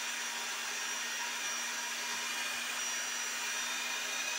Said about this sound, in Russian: Вот такой вот миксер.